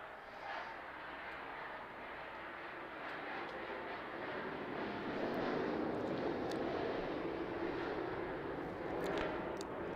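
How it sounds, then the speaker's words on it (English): Military jet passing over a house near a military base, a broad steady roar that swells louder toward the end, heard from indoors with no talk. "There's a jet going over my house."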